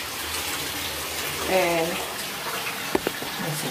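Water pours steadily into a bathtub being filled for a soak with Epsom salt, a constant close rushing gush throughout, with someone briefly speaking over it and a couple of light knocks near the end.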